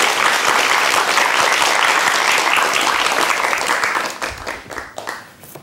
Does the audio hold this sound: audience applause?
yes